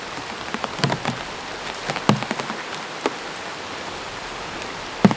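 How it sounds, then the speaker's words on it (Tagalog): Rain falls heavily in a steady, even hiss, with scattered sharper drops and taps striking nearby surfaces throughout. "Malakas na naman ang ulan."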